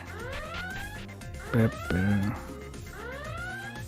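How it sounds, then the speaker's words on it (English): An electronic alarm in the video game Danganronpa Another sounds in a repeating pattern of rising, sweeping electronic tones, with a couple of brief louder bursts midway through the loop. "Oh, the alarm is so annoying."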